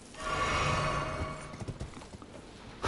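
Horse hooves in Elden Ring on PS5, around Caelid. A short tonal sound comes first, then a quick run of light, close clip-clopping steps, with no talk.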